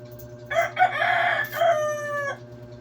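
A rooster crows one long, drawn-out call close by over a low steady hum, with no talking.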